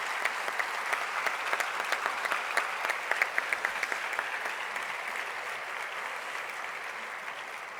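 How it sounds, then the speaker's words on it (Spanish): An audience gives sustained, even applause at the closing ceremony of the VIII International Congress of the Spanish Language in Córdoba. Many hands clap steadily at a moderate distance, with no voices over it. "creo que se merecen un gran aplauso en Córdoba"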